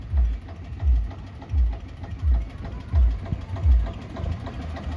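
A tractor engine runs on a farm, giving a steady series of deep, rhythmic chugging pulses that repeat roughly every second, close by, with no talking over it.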